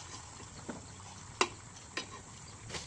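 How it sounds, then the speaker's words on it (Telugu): Chicken curry is stirred in a pan, with quiet, faint scraping and a few sharp clicks of the spoon against the pan over a soft sizzle. "తిప్పుకుందాం"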